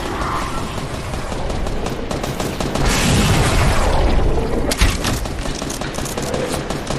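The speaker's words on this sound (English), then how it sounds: "Somebody was shooting me." Gunfire in a PS4 shooter, dense loud volleys of rapid shots over a rumbling booming background, with a sharp crack near the end.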